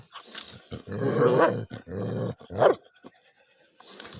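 A dog growls and snarls at a monitor lizard in rough bursts, close and fairly loud, with short pauses between the rumbling fits.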